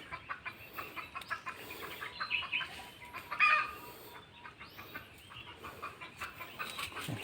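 Chickens cluck and chatter continuously while being fed, with a brief louder squawk midway, close and steady over an outdoor backdrop.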